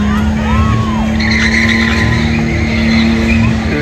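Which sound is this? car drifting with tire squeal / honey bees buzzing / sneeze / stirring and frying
car drifting with tire squeal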